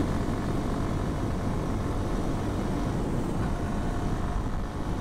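A motorcycle accelerating hard on a highway, its engine roar and rushing wind forming a loud, steady, unbroken wash of noise from start to finish.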